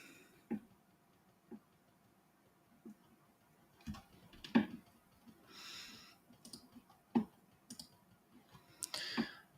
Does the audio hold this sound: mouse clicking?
yes